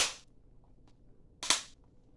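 Two sharp plastic clicks or cracks from a graded comic slab being spun and cracked open at a corner, one at the start and a louder one a moment later, with faint small ticks between in quiet surroundings.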